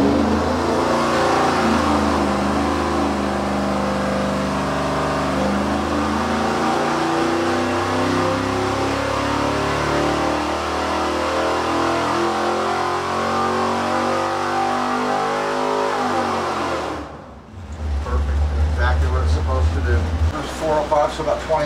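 A small block Chevy engine on a dyno at Westech Performance holds a loud, steady roar with shifting tones, then cuts off abruptly near the end, leaving a low hum and people talking.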